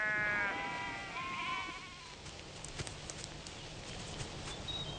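Sheep bleat on a large sheep station, a few wavering calls up close at the start over a steady outdoor background hiss.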